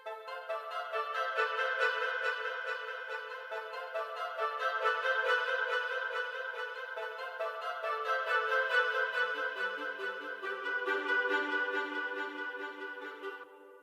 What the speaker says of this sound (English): The BBC clarinet and BBC hobos are pan on each side